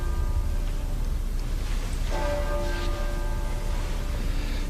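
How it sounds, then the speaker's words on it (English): Heavy church bells ring in the distance, a tonal clang rising partway through and hanging with a sustained hum over a steady wind-like background rush. "Those bells must weigh a ton."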